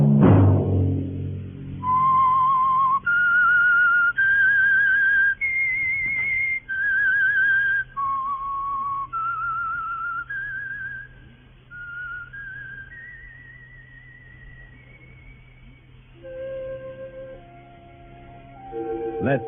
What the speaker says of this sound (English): Let that whistle be your signal for the Whistler each Wednesday night at this same time.